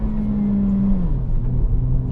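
A 2024 Honda Civic Si engine hums steadily from inside the cabin as the car pulls away in first gear, its tone stepping down slightly partway through over a low road rumble.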